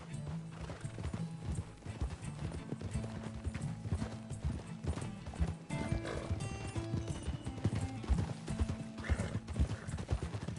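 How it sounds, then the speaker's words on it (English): Horse hooves clip-clop steadily and continuously in Red Dead Redemption 2, a close rhythmic trot layered over a busy game soundscape with a brief whinny. "Get a hold of that horse, Arthur."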